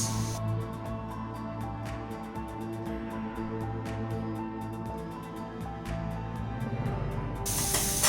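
Onion cut into thin strips sizzling in a pan with light-brown sautéed garlic, a steady close frying hiss with soft crackles and occasional spatters running throughout.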